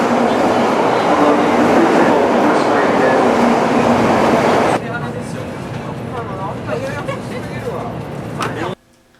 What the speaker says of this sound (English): We take the bullet train to Hiroshima.